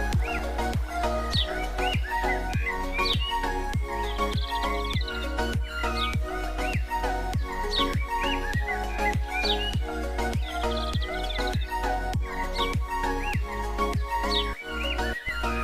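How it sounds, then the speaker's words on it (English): Birds sing outdoors in nature with repeated bright chirps and whistles over a steady, evenly pulsing rhythmic backdrop, continuous for about fifteen seconds. "the songs of birds are the most basic sounds of creation"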